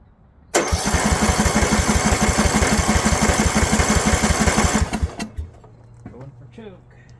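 A Snapper 28-inch rear engine riding mower with an 11 HP Briggs Intek engine, at mid-throttle with no choke, fires abruptly and runs loudly with a fast, even chug for about four seconds before dying. Quieter sounds and faint voices follow.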